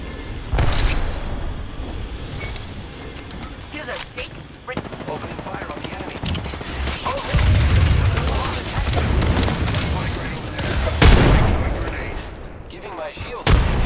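Loud, sustained gunfire in Apex Legends during Caustic gameplay: dense automatic bursts and heavy impacts rattle almost without pause, with other game noise layered underneath.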